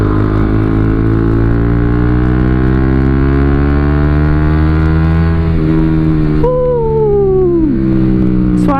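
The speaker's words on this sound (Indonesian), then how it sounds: "Coba kita tes knalpot mode racing nih." Motorcycle fitted with a 3Tech Tridente F19 Thunderhawk exhaust in racing mode, a loud deep idle and steady drone that rises into a sharp rev and falls back, alone and close.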